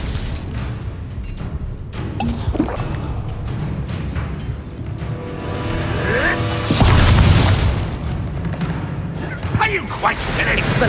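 Booming spell explosions in Hogwarts Legacy ring out through continuous game noise, with a heavier blast around the middle and a few sharp bursts, while a voice casts spells over the din.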